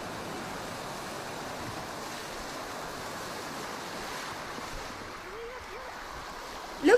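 Rushing water runs steadily throughout a slow, gentle river boat ride, a broad continuous wash with a faint wind and a brief bump at the very end.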